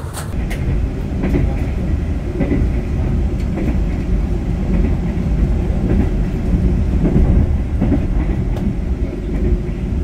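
A passenger train on the Semarang–Jakarta line in Indonesia rumbles steadily along the rails, a continuous loud low roar with faint rhythmic clacking throughout.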